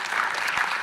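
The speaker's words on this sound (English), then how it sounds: "Can we give him a big round of applause for that?" An audience at a startup accelerator pitch event gives a short, dense burst of applause with a few louder individual claps poking through.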